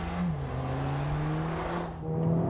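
A Mercedes-AMG A45 S engine revs up in one smooth, rising whine, then the pitch drops away as it eases off. Close and fairly loud, no talking.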